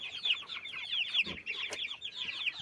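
Domestic hens kept indoors in a warm coop cluck steadily and close by, a busy overlapping chorus of short calls with no talk over them.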